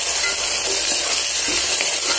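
Onions frying with ginger garlic paste and green chilli paste for a white pulav, a loud, close, unbroken sizzle with faint stirring scrapes, no voices.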